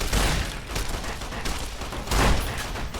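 Sustained rapid gunfire in the video game Fallout: New Vegas, a loud continuous burst of shots that swells again near the end, with no talk over it.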